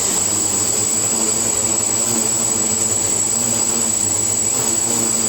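Quadcopter propellers spinning on a PID tuning stand, a loud steady close whine with a high tonal buzz over a droning hum, continuous with no pauses.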